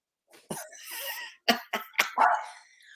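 A dog barks close by in a short burst of sharp yaps and coughing woofs over about two seconds, loud and alone, with no talk over it.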